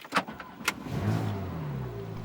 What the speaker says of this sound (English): On starting up, the engine note is quite nice, though not as throaty as the R8.